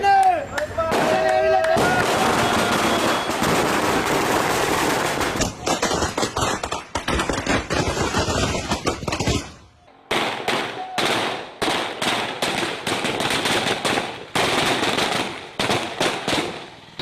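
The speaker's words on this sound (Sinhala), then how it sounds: "ජනතාව රතිඤ්ඤා දල්මින් ප්‍රීතියටපත් වුණේ මෙලෙසින්" Rapid strings of firecrackers crackle and pop loudly, dense at first, then in separate bursts with brief gaps.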